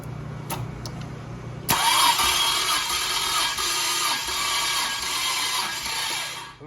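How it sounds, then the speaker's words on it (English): Nissan L28ET engine cranking on a weak battery while hooked up for a cylinder compression test, a loud steady churning whir that starts abruptly and runs on continuously, close by with no talk. "Ooh, our battery sounds kind of weak."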